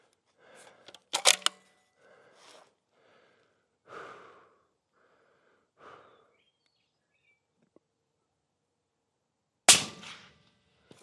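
A single sharp rifle shot rings out near the end, fired from a support bag, after several quiet seconds of soft breathing, shuffling and small handling noises close by.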